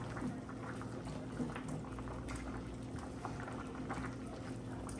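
Jamaican beef stew peas with scallion, thyme and pepper simmer in a pot, giving a soft, continuous bubbling that stays faint and even throughout with no talking.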